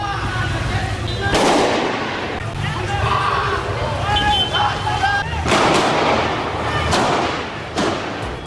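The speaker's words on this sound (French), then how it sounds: "Écoutez les tirs échangés avec les policiers." Gunfire exchanged with police during a robbery at a Cartier shop near the Champs-Élysées, recorded by a witness: several sharp, booming shots ring out at irregular intervals over continuous street noise and distant crowd murmur.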